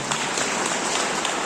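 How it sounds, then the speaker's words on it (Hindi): Sustained, dense applause from a wedding audience fills the whole stretch at steady loudness, a broad wash of clapping with no voices over it. "उनके लिए भी एक जोरदार ताली हो जाए।"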